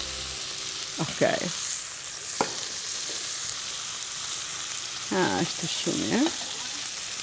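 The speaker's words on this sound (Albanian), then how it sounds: "këtu po skuqim qepën me hudrën" Chopped onion and garlic frying in a splash of oil for a beef dish in cream sauce, a constant bright sizzle with a few utensil clicks, while people exchange brief words over it.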